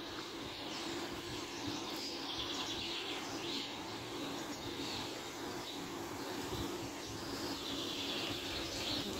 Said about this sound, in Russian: Чайчики летают, голуби.